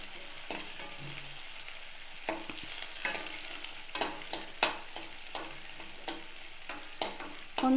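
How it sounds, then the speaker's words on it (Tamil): Small shallots sautéing in a pan for Bombay chutney, a soft sizzle punctuated by a string of sharp spatula scrapes and stirs at close range. "கொஞ்சம் நேரம் வதங்கட்டும்."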